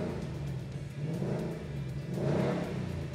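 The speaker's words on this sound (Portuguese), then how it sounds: "só para mostrar para vocês a delícia que é esse ronco do motor" A Ford Mustang's 5.0-litre V8 revving, a deep, throaty rumble that dips briefly and then swells into a louder roar, heard close by with no talking.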